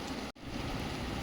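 Steady rain falls outdoors as a dense, continuous hiss with a brief dip near the start, and no voices are heard.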